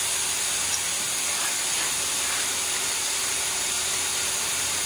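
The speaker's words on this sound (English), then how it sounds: "It can also be a good idea to spray through the tip so that it doesn't cycle too fast and air out as well." A Wagner GM 4700 air-assisted airless spray gun sprays clear coat with a steady, loud, unbroken hiss that holds evenly throughout, with no talking.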